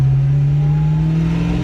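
Car engine held steadily at about 3,000 RPM against an MSD 6AL three-step launch control rev limiter, a loud, even drone throughout with no talk.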